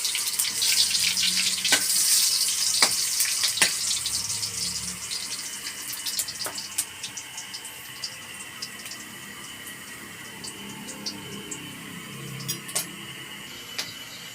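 Ginger frying in a pan while cooking mung beans with chicken: a steady, bright oil sizzle with scattered crackles and pops, fading slightly over time, heard close and without talk.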